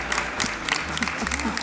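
Someone applauding at the end of a treasure hunt game at the Musée Saint-Rémy, a brief run of clapping mixed with light crowd noise and talking voices.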